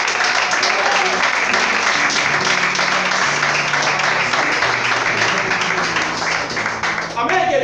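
Church congregation applauding together, a loud, dense, steady wash of clapping that fills the space throughout, with a few voices and cheers mixed in.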